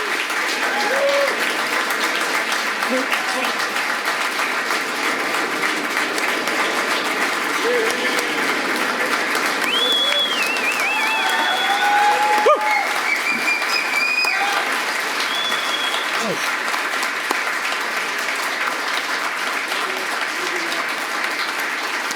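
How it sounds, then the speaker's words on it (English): Steady, dense applause from a large audience at an award ceremony fills the room for over twenty seconds, even and sustained, with faint voices and a few whoops rising above the clapping. "let's give a round of applause to Jeff and Fred Berglund as they join us on stage"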